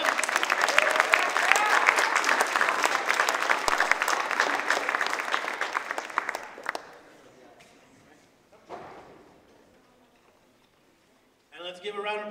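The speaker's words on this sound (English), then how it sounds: "let's give a round of applause to the Jazz for the intro" A high school concert audience bursts into dense, sustained applause for about six seconds, then the clapping dies away to near quiet before a voice speaks at the end.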